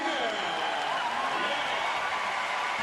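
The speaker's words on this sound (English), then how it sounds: "Big cheer for them." A stadium crowd at the Lausanne Athletissima Diamond League meeting roars in a steady, dense wash as a women's relay team is introduced, with a commentator talking over it.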